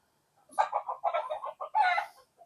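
Chickens cluck in a series of short rhythmic calls in a backyard in San Ildefonso, Bulacan, moving into a louder, drawn-out call near the end. The calls are close and clear with no voices over them.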